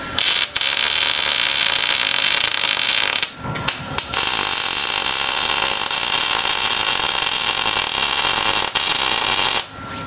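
Steel bumper plates being tack welded on an off-road bumper for a 4th gen 4Runner, loud harsh crackling buzz in long bursts with brief pauses between welds, no talking.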